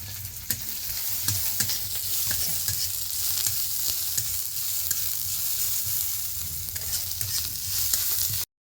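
Chopped onion and green chilli frying in a pan, with steady close sizzling and scattered stirring scrapes throughout, no voices.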